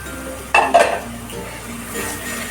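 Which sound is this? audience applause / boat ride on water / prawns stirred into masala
prawns stirred into masala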